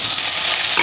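Turmeric and spices fry in cooking oil in a pan, a steady loud hiss and sizzle that runs unbroken, close and without any voices.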